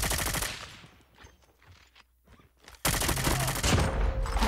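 Bursts of automatic gunfire from a weapon in a shooter video game: a loud rapid volley at the start, a quieter gap of scattered faint shots, then another loud sustained burst.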